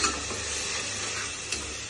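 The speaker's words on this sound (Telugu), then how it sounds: "చిన్న వంటతో ఇట్లనే కలుపుకోవాలి" Mutton curry, Telangana style, is stirred with a small ladle in a hot pan: a dense, continuous sizzle with scraping stir noise and one brief clink, close and fairly loud, with no voices.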